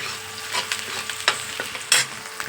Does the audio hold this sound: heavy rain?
no